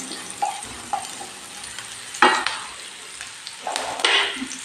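Onions sautéing in a pan for malli rice, a soft steady sizzle broken by several scraping stirs and clinks of the spoon against the pan. The sounds are close and come in bursts, and nobody talks.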